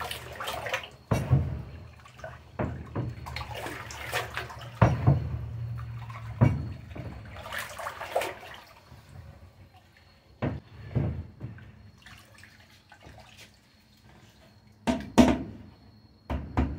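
Peach brandy mash with inverted sugar added being stirred, heard as intermittent liquid sloshes, splashes and knocks in bursts with quiet gaps between them, close by and with no talking.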